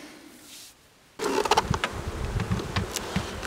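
Honeybees buzz loudly at a neighbouring beehive on a shared stand, a sudden dense humming swarm that starts after a quiet opening second and keeps going with rising and falling close passes.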